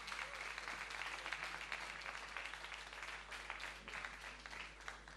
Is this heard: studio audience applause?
yes